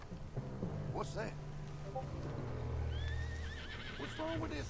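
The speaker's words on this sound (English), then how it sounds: "What's wrong with this horse?" A horse in Red Dead Redemption 2 whinnies with rising, wavering squeals over a steady low hum and background noise, with some clopping early on.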